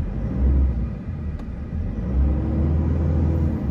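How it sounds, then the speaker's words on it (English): A 2018 Toyota Hilux SR with 47,000 km on the clock, its engine giving a quick rev: a loud, close, steady low rumble that dips for a moment, then swells again, with no talk. "Give the car a quick rev."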